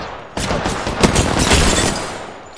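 Gunfire rattles in the Apex Legends battle royale shooter, a loud burst of rapid shots that keeps going for about two seconds and fades near the end.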